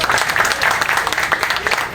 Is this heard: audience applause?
yes